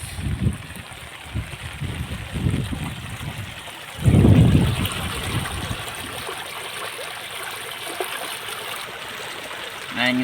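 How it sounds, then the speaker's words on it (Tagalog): Strong floodwater current rushing after Typhoon Ferdie, a continuous nearby wash of water with surging swells, heard under a man's speech. "Pakita ko sa inyo kung gaano kalakas yung agos."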